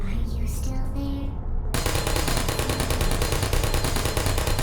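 A video game turret opens fire in a loud, rapid, sustained burst of shots that starts abruptly partway through, after a moment of softer sound.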